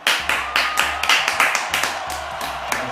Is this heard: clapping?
yes